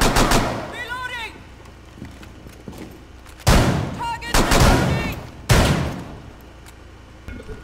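Gunfire in the video game Rainbow Six Siege, Oregon map Terrorist Hunt, arrives as several loud, close bursts of rapid shots separated by quieter stretches, with voices talking in between.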